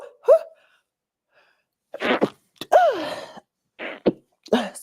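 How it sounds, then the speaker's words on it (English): A person sneezing while sampling perfume at home, a sharp close burst followed by a few short breathy gasps and throat sounds spaced over a few seconds in an otherwise quiet room. "that one made me sneeze"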